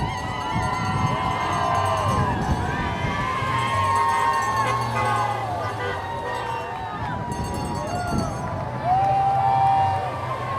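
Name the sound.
crowd cheering as Trump motorcade departs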